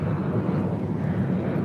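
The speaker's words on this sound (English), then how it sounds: "This Gulfstream G550 taking off to Bozeman, Montana" A Gulfstream G550 business jet taking off from LAX, heard as a loud, steady, low engine roar that holds unbroken throughout.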